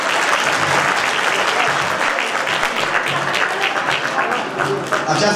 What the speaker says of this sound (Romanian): Să aplaudăm încă o dată.